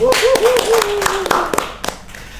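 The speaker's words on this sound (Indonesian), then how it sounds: "Tepuk tangan dulu dong." Audience clapping at a campus event welcoming a pencak silat student club, with scattered sharp claps under a voice at the start that thin out and fade toward the end.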